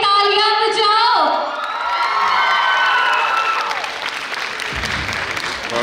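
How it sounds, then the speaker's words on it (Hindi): An audience at a live stage event claps and cheers loudly, a dense burst of applause with whoops and shouts over music-like tones, fading slightly but continuing throughout. "थोड़ी तालियां बजाओ"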